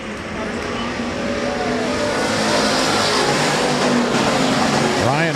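Sportsman class race cars circle the dirt oval at Rapid Speedway, engines droning steadily and loudly as a pack, with a rising whine of a car passing near the end, under an announcer calling positions.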